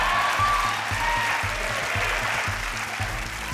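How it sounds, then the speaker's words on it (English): Studio audience applause on a television game show, a dense, steady wash of many hands clapping that stays loud and even throughout with no voices over it. "the audience clapped"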